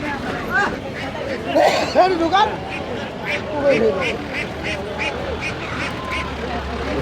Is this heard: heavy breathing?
no